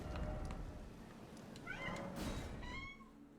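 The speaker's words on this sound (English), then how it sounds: "I don't know if you heard the cats" Several cats meow in a few short, rising calls near the end, fairly close, over a low steady background rumble with no talk.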